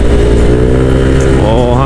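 A motorcycle engine drones loud and close throughout while riding, with a steady mid-pitched note that climbs slightly toward the end as the bike accelerates.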